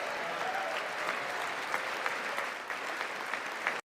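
Applause from the audience at a State of the Union speech, a short steady burst of clapping from a large crowd that holds evenly, then cuts off abruptly at the end.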